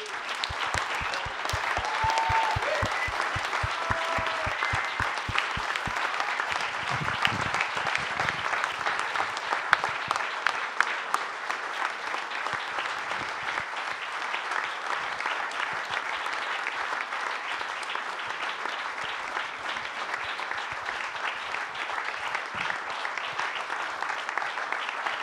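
Sustained audience applause fills the hall after the premiere of the Slovenian documentary film Zadnji ledeni lovci, steady dense clapping from a large crowd with no voices over it for about 25 seconds.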